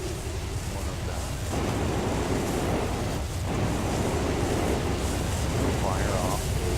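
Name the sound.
sand column rushing in Outer Wilds video game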